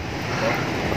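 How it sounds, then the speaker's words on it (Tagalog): Loud, blustery wind buffets the microphone over a rushing roar of rough sea during a typhoon with heavy rain, with a voice faintly underneath. "Malakas na yung ulan dito at saka hangin, maalon na rin."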